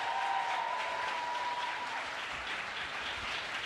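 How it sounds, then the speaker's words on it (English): An audience at a vice-presidential economic opportunity tour event applauds, a dense and steady clapping that holds for a few seconds and then fades slightly. "Can we please applaud Desmond as he walks off the stage?"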